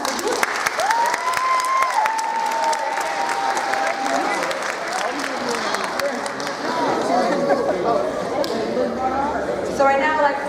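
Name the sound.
high school pep rally crowd applause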